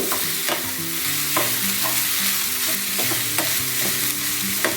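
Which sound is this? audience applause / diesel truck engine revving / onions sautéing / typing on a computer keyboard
onions sautéing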